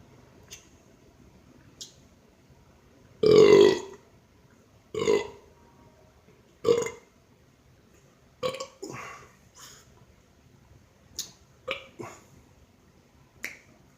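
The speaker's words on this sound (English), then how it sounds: "I'm still drinking and burp for y'all there" After drinking soda, a person lets out a few short, close burps in quick succession, followed by scattered small clicks and mouth noises in an otherwise quiet room, with no talking.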